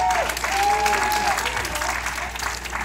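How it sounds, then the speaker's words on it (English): Steady applause from a comedy show audience fills the whole stretch, dense and even, with a few whoops and cheers rising over the clapping. "Clap it up for yourselves"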